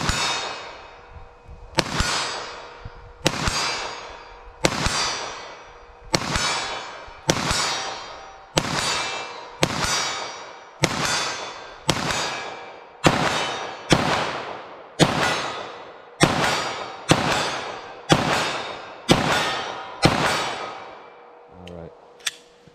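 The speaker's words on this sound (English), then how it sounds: "So I'm gonna see how all three of these cartridges shoot for me from 40 yards from basically the same pistol." Nine-millimetre pistol fired at a target 40 yards away: about seventeen sharp, loud shots at a steady pace of roughly one per second, each with a long ringing decay, and no talking.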